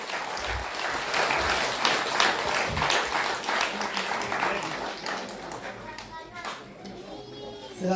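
Audience applauding as a Légion d'honneur medal is presented to Albert Siong at a ceremony, sustained loud clapping with children's voices and chatter mixed in, tapering off toward the end.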